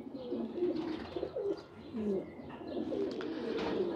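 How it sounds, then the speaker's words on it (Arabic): Pigeons coo in a rooftop loft: a close, repeated chorus of soft, throaty rolling coos that overlap one another continuously, with no speech. "طبعا هاي الحمام حطت كل امورها تمام"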